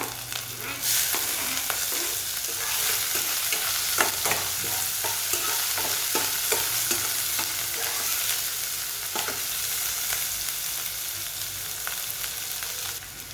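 Onion frying with ginger-garlic paste in a pan for a lasuni palak paneer, a steady close sizzle broken by repeated scraping stirs, with no voices.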